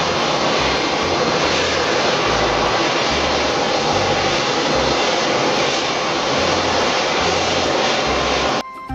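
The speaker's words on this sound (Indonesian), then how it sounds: "Lihat teman-teman, ada pesawat tempur." A toy fighter jet gives off a steady, loud roaring engine hiss that holds level for about eight seconds, then cuts off abruptly near the end.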